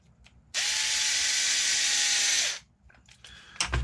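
A power driver spins screws into an Axial Racing SCX10 III axle conversion kit, one steady whirring run of about two seconds starting and stopping abruptly, followed by faint clicks and handling noises.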